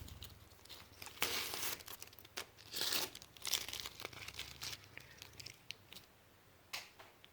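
Masking tape and paper are torn and peeled off a freshly painted surface, close-up crinkling, ripping bursts and crumpling in irregular repeated pulls, some loud and some softer.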